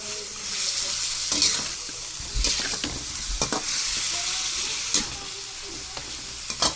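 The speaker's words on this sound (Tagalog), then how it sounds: "Gusto ko magiging golden brown din yung chicken" Chicken frying in a pan, a bright steady hiss with a few louder bursts and scattered clinks and scrapes of a utensil moving the pieces.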